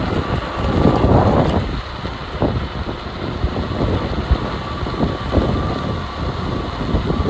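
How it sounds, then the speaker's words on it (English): Steady broadband wind rush with a low rumble from a bicycle freewheeling at about 25 km/h on a downtown ride, continuous and fairly loud throughout with no speech. "You expect to hear some wind noise as I begin to freewheel"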